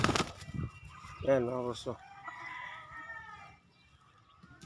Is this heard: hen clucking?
yes